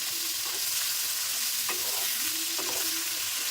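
Thick-cut vegetables with turmeric and salt frying in oil over a medium gas flame, giving a steady close sizzle with a few scraping stirs of a spoon.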